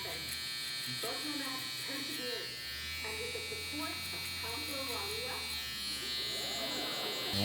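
A Babyliss SnapFX electric hair trimmer buzzes steadily close up as it cuts hair around the ear during a burst fade haircut, with someone talking over the continuous hum.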